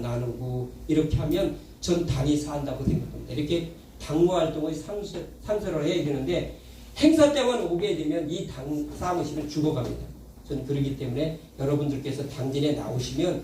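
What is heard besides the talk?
No distinct noise like a dog, phone or traffic.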